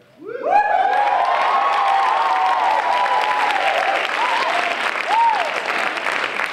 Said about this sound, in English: I love your applause.